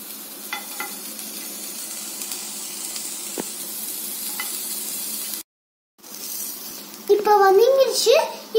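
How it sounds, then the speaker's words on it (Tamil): Ginger and garlic fry in a pan with a steady sizzle for several seconds, briefly cut off, then it returns as a voice chatters over it. "நம்ம கொஞ்சமா இஞ்சி கொஞ்சமா பூண்டு போட்டு வதக்கிக்கலாம்."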